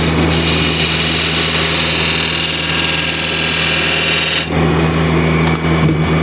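A wood lathe spinning with a gouge taking a light cut on a turned piece, a loud steady motor hum with a continuous scraping hiss that briefly lifts off near the end, with no talk.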